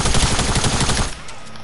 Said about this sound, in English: Do you want to feel my attack SMG?